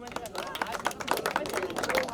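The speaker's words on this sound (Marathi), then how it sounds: "एकदा यशवंत माने यांच्यासाठी देखील आपण टाळ्या वाजवूयात" A crowd applauds Yashwant Mane at the N.K. Trophy 2026 cricket event, with dense, steady clapping running throughout, close and moderately loud.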